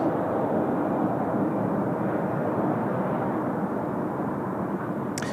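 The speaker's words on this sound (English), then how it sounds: "Jin Air coming in from Nagoya today." Steady broadband jet roar from a Jin Air Boeing 777 with Pratt & Whitney engines, arriving from Nagoya at Seoul Incheon Airport, heard continuously and fairly loud with no talk.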